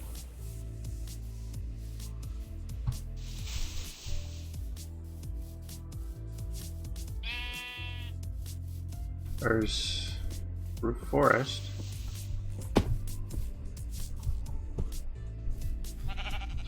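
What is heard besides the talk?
sheep bleating, from video game Minecraft (Enigmatica 6)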